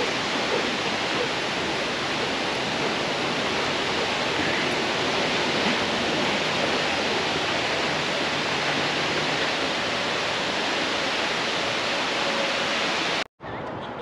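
A steady roar of rushing, falling water from Multnomah Falls fills the scene, broadband and constant, cutting off abruptly near the end.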